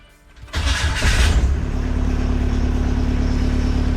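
A Kubota V2403 diesel engine fitted in a 2006 Jeep TJ Wrangler, with a replaced governor spring, catches with a loud start-up surge and then settles into a steady, throbbing idle close by.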